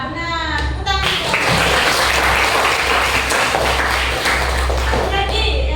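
Classroom of pupils clapping together after a teacher's prompt, a loud burst of dense applause that starts abruptly and continues steadily with some tapping.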